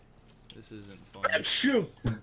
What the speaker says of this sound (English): I'm gonna sneeze